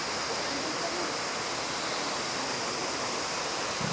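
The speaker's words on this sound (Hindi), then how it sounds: "ये देखो, ये झरना देखो कितना प्यारा लग रहा है" Steady broadband rush of a waterfall beside a mountain road on the Sach Pass route, constant and fairly loud with no breaks, filling the whole stretch without voices.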